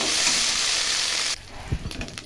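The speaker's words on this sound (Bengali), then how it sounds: "এখন একটু ভেজে নেব।" Soybean chunks, potato, ginger and spices fry and sizzle in a pan, a steady loud crackle that drops off after about a second and a half to quieter stirring scrapes and bumps.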